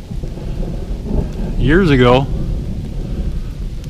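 Thunder rumbles through a rainstorm during a bike ride, a low continuous roll under steady rain, with someone speaking briefly over it in the middle.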